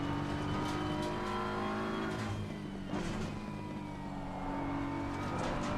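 A GT race car in Assetto Corsa Competizione holds a loud, sustained engine drone that shifts pitch through gear changes, with tires squealing and scrubbing as it brakes and turns, heard continuously without speech.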